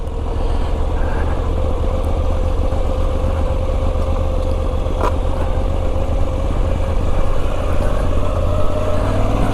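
A Moto Guzzi V85 TT V-twin motorcycle engine runs steadily while riding at low speed, a continuous loud drone with wind rumble and no talk.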